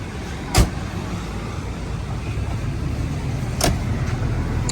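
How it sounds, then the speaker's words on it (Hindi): Door of a 1976 Toyota Corolla in clean vintage condition shut outdoors: two sharp, solid thumps about three seconds apart, the first louder, over a steady background hum. "यार कसम से एक उंगली से दरवाज़ा बंद हुआ है, पूरा बंद हो गया"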